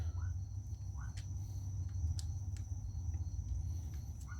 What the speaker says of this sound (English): I'm in Florida at 11:30 at night, and there's all kinds of bugs around.